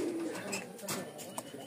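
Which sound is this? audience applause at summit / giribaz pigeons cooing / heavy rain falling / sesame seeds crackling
giribaz pigeons cooing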